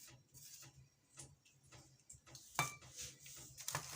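Spatula scraping the sides of a bowl of fruit cake batter, with soft intermittent scrapes and occasional light clinks against the bowl, quiet and close, a sharper knock near the middle and a few at the end.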